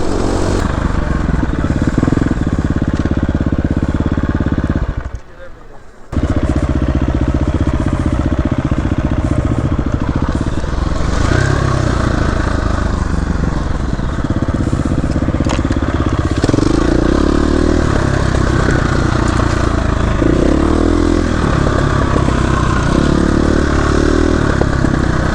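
KTM 350 EXC F and Beta 300RR dirt bikes ride on a group trail outing, engines roaring loud and close almost continuously, with a brief drop around five seconds and rattling clatter throughout.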